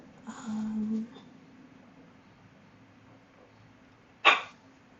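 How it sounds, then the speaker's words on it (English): A dog barks indoors: one drawn-out, tonal bark near the start, then quiet room tone, then a single short, sharp bark near the end. "why are you barking?"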